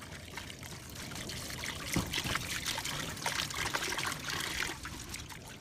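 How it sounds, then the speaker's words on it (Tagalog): Running water trickling and splashing as string beans and jute leaves are washed by hand, a steady close pour with small irregular splashes and no talking. "Sinunod ko na rin hugasan yung ating sitaw. Pati na rin yung saluyot."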